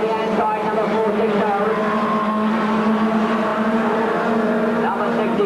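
Race cars circling Ringwood Raceway in the 1980s, a steady droning engine roar with whining tonal harmonics, under continuous announcer commentary over a loudspeaker.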